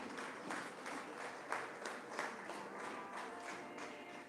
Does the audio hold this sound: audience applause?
yes